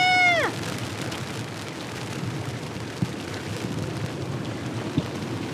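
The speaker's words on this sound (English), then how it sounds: "I think it's actual thundering rain" Steady rain falling on a sailing boat at anchor in a storm, a constant hiss with a couple of sharp knocks and a brief descending whistle at the start.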